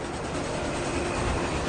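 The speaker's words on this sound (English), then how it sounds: "as the train is flying past" A train rushes past on the tracks in a steady, loud, close rumble of wheels and rail noise that holds at full strength throughout, with no voices.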